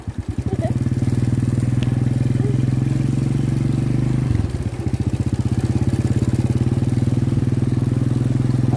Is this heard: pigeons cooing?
no